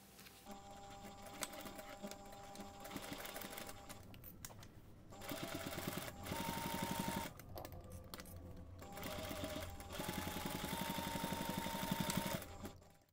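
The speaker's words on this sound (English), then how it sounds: "Then you can take this to the machine and stitch close to the edge." A sewing machine stitches close to the edge of a fabric toiletry pouch, a steady whirring run with short pauses and restarts, close and moderately quiet.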